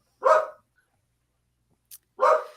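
Two short, sharp barks from pet dogs, separated by about two seconds of silence, fairly close and loud in an otherwise quiet indoor room.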